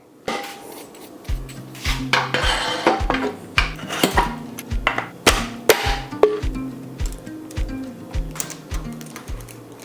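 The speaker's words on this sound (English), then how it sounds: "Then you take your hammer and you just hit the end here." Hammer striking the top of a star nut to knock it flush into a mountain bike's fork steerer tube, a rapid series of sharp metallic taps over a steady background beat.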